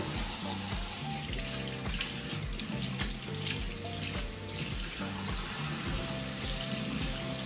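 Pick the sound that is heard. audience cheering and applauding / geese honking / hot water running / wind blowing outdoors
hot water running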